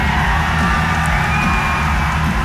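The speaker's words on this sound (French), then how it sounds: "La foule est en délire" A wrestling event crowd cheers wildly, a dense, loud, continuous roar of whoops and shouts filling the whole moment.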